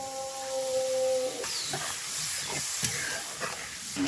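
A splash of water hitting frying masala in hot oil for a Bengali fish curry, setting off a steady loud hiss with faint clatter.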